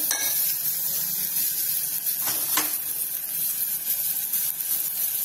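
Tomato masala with red chilli powder frying in oil for dal baati, a steady close hiss of sizzling with a couple of brief clicks of a spoon against the pan.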